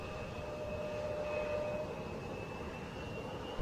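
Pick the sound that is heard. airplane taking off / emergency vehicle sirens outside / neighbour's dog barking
airplane taking off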